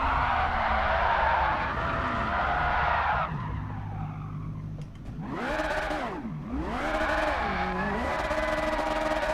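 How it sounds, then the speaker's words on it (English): Tyres skid and squeal as a race car warms its rear tyres in a racing game garage: a long sustained screech over a revving engine, then two rising and falling squealing sweeps, loud and close. "I'm going to warm up my tyres. And this should warm up my rears. Look at them go."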